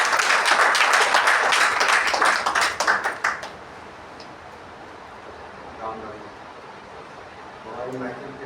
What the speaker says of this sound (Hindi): एक बार जोरदार तालियां बजाते।